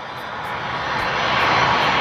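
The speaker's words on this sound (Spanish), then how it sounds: "Vas a poder ver volar muchos aviones como el que va a volar ahorita." A fixed-wing airplane takes off near the Museum of Flight, its engine roar a steady broadband rush that builds slightly over two seconds, close and loud with no voices.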